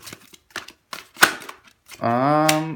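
Tarot cards are shuffled by hand in a few crisp, separate clicks and riffles. A sustained voiced tone follows near the end.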